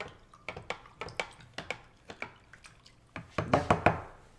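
Walnut milk being mixed in a container, a series of sharp knocks and liquid clinks at an irregular rhythm, clustering into quicker, louder strikes near the end, close and otherwise quiet.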